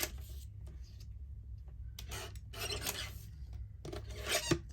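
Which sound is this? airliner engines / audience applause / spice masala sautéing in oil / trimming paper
trimming paper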